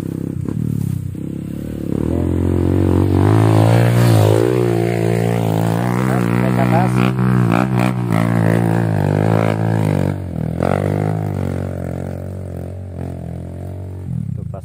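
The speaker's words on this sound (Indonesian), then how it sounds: "Ada motor melintas lewat sini." A motorcycle passes along a jungle road in the interior of Central Kalimantan, its engine loud and close, rising and falling over about fifteen seconds as it goes by, with some clattering.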